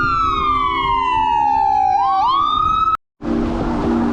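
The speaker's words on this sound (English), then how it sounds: "I'm gonna wait a second until the ambulance passes." Ambulance siren passing a cyclist on the street, loud wailing tone dropping in pitch as it goes by, then cutting off abruptly and giving way to broadband traffic and wind noise.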